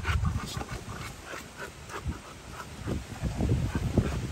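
A female pit bull-type dog nearby panting and whimpering in soft, uneven bursts over a low background, with no clear talk.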